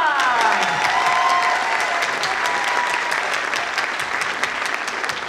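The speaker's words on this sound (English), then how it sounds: "give a warm round of applause for your next storyteller, Angela Smith Youngblood." Audience applause at a live storytelling show, a steady, full burst of clapping that holds loud for about five seconds and eases slightly toward the end, with no talking over it.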